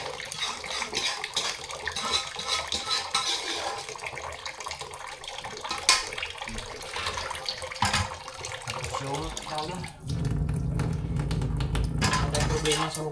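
Water runs from a tap into a sink while dishes are washed, a continuous close splashing rush that grows heavier and steadier near the end.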